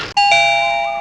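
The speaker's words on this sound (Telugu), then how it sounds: "మధ్యలో లింగలింగం అంటే ఈ కాలింగ్ బెల్ ఒకటి." A calling bell at a house door in a comedy film scene gives one loud, close electronic ding-dong chime whose tone rings on and slowly fades, with no speech.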